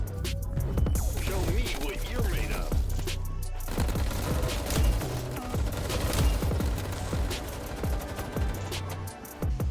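In the Roblox game Arsenal 2, rapid gunfire crackles in quick bursts and sustained automatic volleys over a busy game soundscape, with a player's voice talking over the shooting.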